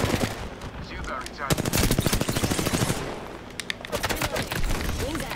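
Rapid automatic gunfire in the video game Apex Legends, close and loud bursts of sharp cracks with short gaps between volleys, with a voice briefly under the shooting.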